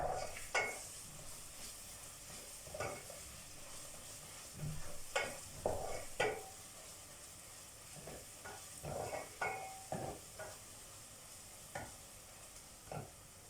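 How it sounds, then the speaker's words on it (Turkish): Tomato paste, cracked egg and red pepper sizzle in a pan, with a steady frying hiss broken by repeated scraping and stirring clatters of a utensil against the pan. "Salçanın üstüne yumurtayı kıracağım. Şöyle kırmızı biberimi de atayım. İkisi de kavrulsun."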